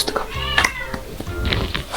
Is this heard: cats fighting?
yes